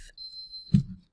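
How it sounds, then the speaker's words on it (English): Electronic beeping: a single sustained high-pitched beep tone holds for about half a second, followed by a short low thump. "Sorry about the beeping."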